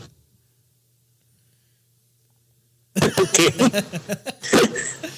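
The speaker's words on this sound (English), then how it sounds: "Who's coughing?" A few sharp coughs burst out after a stretch of near silence with a low hum, loud and close, in quick uneven succession.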